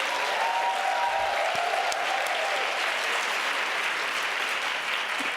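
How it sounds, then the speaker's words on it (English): A large audience at a women's entrepreneurship conference applauds steadily and loudly for the whole stretch, a dense unbroken wash of clapping with no voices over it. "May I please get a big round of applause for the Creator."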